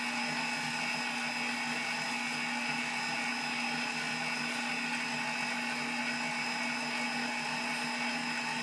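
A budget stand mixer kneads pizza dough, its electric motor giving a steady, unbroken whine and whir throughout, close and constant with no talking.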